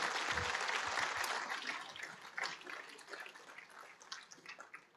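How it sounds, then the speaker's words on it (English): Applause at a defense technology conference, the Baltic Miltech Summit, after a signing, a fairly faint, dense patter of clapping that gradually thins out and fades. "Congratulations, plenty of applause,"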